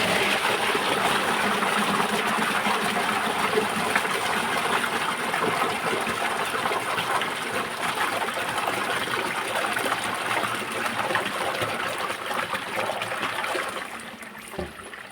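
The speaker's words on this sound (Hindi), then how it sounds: "यहाँ पर देखिए मैं पानी भरने में लगी हुई हूँ" Water pours steadily from a tap or pump into a container at home, a loud continuous rushing splash that holds for about fourteen seconds before tapering off at the end.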